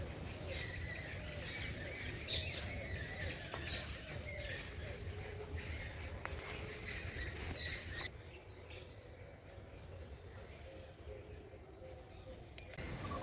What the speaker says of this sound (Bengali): চারিদিকে কত রকমের পাখিদের আওয়াজ